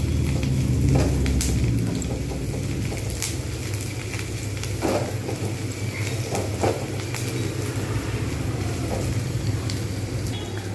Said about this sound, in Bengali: তাই আমি আরেকটু ভাজব কিন্তু লালচে ভাব করে নেবো